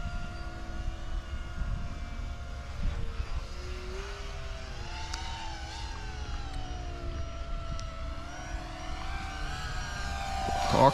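An RC model Tucano airplane engine drones steadily as it comes in to land, the pitch wavering and rising near the end, heard outdoors with little talk.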